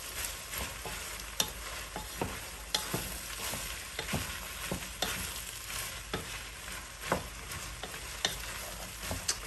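Chopped vegetables for a homemade chili sizzle steadily in a pan, with a continuous frying hiss broken by regular clicks and scrapes of stirring, close and fairly loud with no talking.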